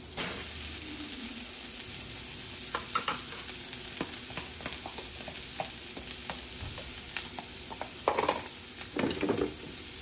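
Cauliflower rice sizzles in sesame oil in a pan with a steady frying hiss, while a utensil stirs it with intermittent scrapes and clinks close up; no talk.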